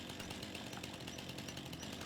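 Chainsaw in Farming Simulator 25, a continuous loud buzzing engine whine running steadily through the short stretch with no pause and no voices.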